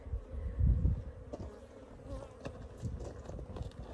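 Steady buzzing of many honeybees close by at a hive, a low droning hum with occasional louder swells and faint knocks.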